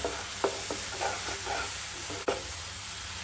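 Masala frying in oil for a capsicum (shimla mirchi) curry, a soft continuous sizzle with a few light stirring scrapes and one sharp knock near the end, quiet and close.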